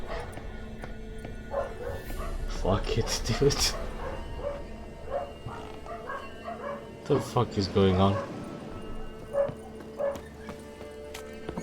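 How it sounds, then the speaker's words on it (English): Neighbourhood dogs in the Witcher 3 game bark and yip repeatedly in the background, scattered bursts rising and falling, while a man curses over them. "all the fucking dogs in the hood apparently just started barking for no reason."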